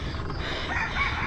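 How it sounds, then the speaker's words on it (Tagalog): A rooster crows somewhere off in the distance during a solo outdoor fatbike ride, the call faint and partly buried under steady road and wind noise. "nakarinig tayo ng tilaok na manok"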